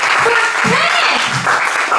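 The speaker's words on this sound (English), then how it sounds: "Start clapping right now" Steady applause from an audience at an open mic stand-up comedy show fills the whole stretch, dense and continuous, with a voice faintly present underneath.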